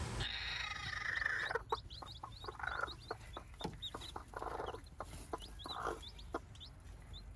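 A mother hen of a native backyard breed, with her chicks around her, clucks repeatedly in short, agitated bursts as she is lifted. Faint peeping and rustling sit underneath, close and moderately quiet, with no speech.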